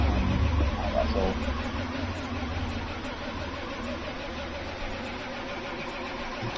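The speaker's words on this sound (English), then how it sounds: "that pit limiter on Perry's car getting a workout there. I can hear that" A racing car's engine bounces off its pit limiter in a racing video game at a Brazil round, a buzzing, stuttering drone under a commentator's voice, steady throughout.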